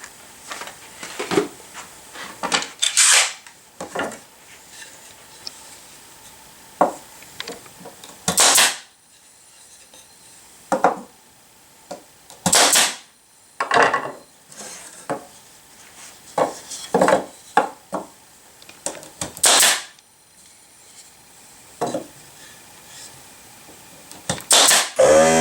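Sharp, scattered impacts of 3/4 inch 18 gauge brad nails being driven into wooden beehive frames, loud bursts in irregular clusters with handling noise between, no talking.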